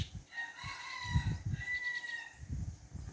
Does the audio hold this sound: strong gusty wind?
no